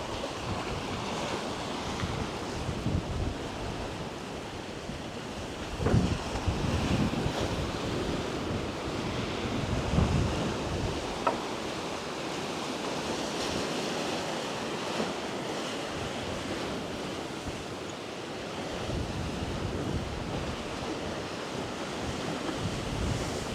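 Strong wind and surf pound a rocky shore at Khao Laem Ya National Park in Rayong, with waves washing into rock hollows; a steady loud roar of breaking water and gusting wind noise on the microphone, with a few heavier crashes.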